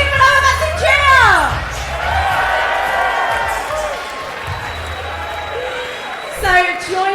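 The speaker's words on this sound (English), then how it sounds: "Give him another massive cheer!" A live chessboxing event crowd cheers and whoops as a fighter stands in the ring, the roar swelling near the start and again at the end, with an announcer's amplified voice speaking over it throughout.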